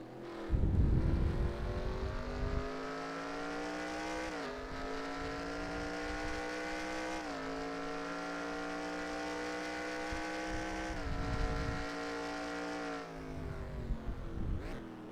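Formula E race car in a racing video game at the Shanghai ePrix, its onboard electric drive whining continuously, the pitch climbing and dropping through gear-like sweeps with bursts of rumble-strip noise, loud and close with no speech.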